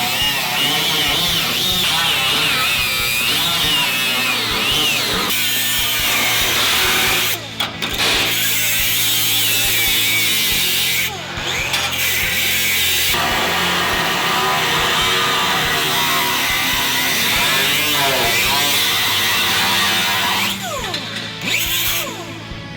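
A power tool cuts through the floor section of a 1967-1969 Camaro to reach the frame rail, giving a loud, continuous grinding whine with brief pauses between passes.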